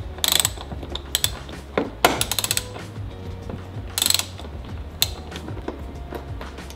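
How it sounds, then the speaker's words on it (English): A 10 mm socket ratchet working bolts loose on a Toyota Tacoma, several short bursts of rapid clicking separated by pauses, close up and fairly quiet. "Now I can just use a 10 millimeter socket to remove these two bolts."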